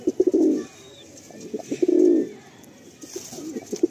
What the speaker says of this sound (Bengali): পুরো অ্যাগ্রেসিভ হয়ে রয়েছে পায়রা।